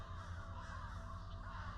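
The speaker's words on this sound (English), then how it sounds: "If the crows are circling, that means there's something dead." Crows circling above in the video game Saint Kotar, their harsh caws spread over a constant ambient drone, moderately loud and continuous throughout.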